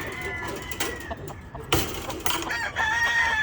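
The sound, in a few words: rooster (stag) crowing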